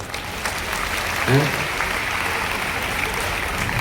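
Steady audience applause at a Ganesh celebration gathering, a continuous wash of many hands clapping at moderate volume, with a brief voice cutting through partway.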